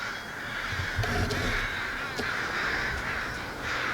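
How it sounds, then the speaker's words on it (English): Crows cawing repeatedly at a moderate distance, harsh calls overlapping over steady background noise. "You hear those crows?"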